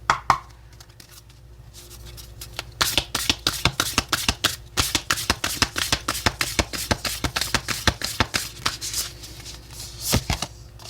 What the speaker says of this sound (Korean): 자, 그러면 테마 카드를 뽑아 볼게요.